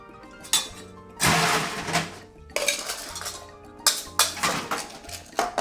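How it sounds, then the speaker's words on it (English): Ingredients for a Painkiller cocktail with spiced rum rattle in a metal shaker tin, giving loud bursts of clinking and clattering broken by short pauses, with no voices over it. "We will mix everything up in our shaker tin."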